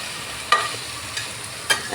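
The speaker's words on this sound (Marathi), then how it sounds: "आता आपण ह्याच्यामध्ये हे पाय टाकून घेऊया। चांगलं हलवून घ्यायचं।" Chicken feet frying in a pan and being stirred, with a couple of sharp scraping strokes over a soft, steady sizzle.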